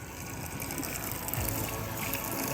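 A water pump fills a 16-gallon fresh water tank on a truck camper, giving a steady close gushing rush of water with a constant motor hum underneath, unbroken from start to finish.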